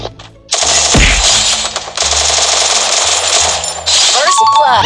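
Loud, rapid bursts of gunfire in the game Free Fire, automatic weapons rattling in long volleys with metallic pings and clinks between them.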